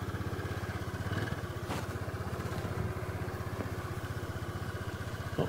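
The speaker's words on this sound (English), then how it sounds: "there's a power guy on his motorbike." A motorbike engine putters steadily at a modest distance, its even pulsing chug running throughout with a few faint clanks.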